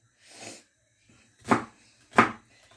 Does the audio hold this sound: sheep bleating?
no